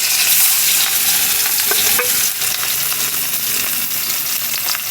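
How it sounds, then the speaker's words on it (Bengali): A fish coated in ginger, garlic, salt, turmeric, lemon juice and cornflour fries in hot oil with a loud, dense, continuous sizzle and crackle up close. "মাছটা ফ্রাই হচ্ছে, আপনারা দেখতে পাচ্ছেন।"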